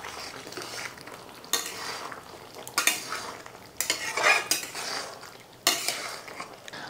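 Manchurian balls are stirred into a cabbage and carrot sauce in a pan, with scraping spoon-on-pan strokes and clinks in separate bursts over a low, steady sizzle, with no voices.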